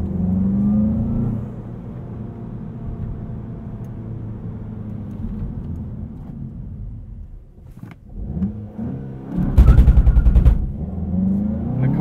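A 2020 Volkswagen Golf GTI with a six-speed manual makes a 0–60 launch with a clutch drop, its engine droning steadily before a sharp burst of revving and hard acceleration near the end.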